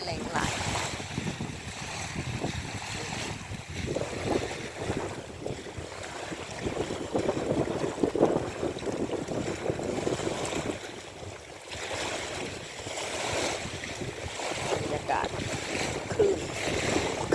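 Steady rushing wind buffets the microphone after rain over choppy lake water at Traunkirchen, slapping and churning nearby, loud and continuous throughout.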